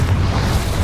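A loud, brief explosive blast from the Confringo spell in Hogwarts Legacy, a dense booming burst under a second long with no speech.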